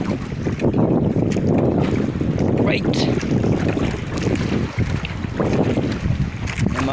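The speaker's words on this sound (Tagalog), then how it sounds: "Nalakas na naman ang amihan." Strong northeast monsoon wind buffeting the microphone on a small handline fishing boat at sea, loud continuous roaring gusts with water wash and someone briefly speaking.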